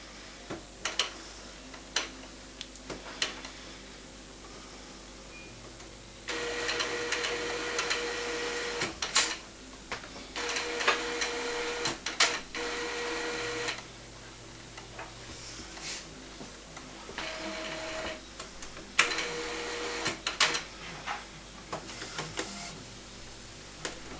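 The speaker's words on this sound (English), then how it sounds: "The printer is now recognising the cartridges, but it does take a minute or so for it to go through this setup procedure." An Epson R285 inkjet printer works through its cartridge-recognition setup, alternating whirring carriage and motor runs of several seconds with ticking clicks and quieter pauses, close and moderately loud with no talk.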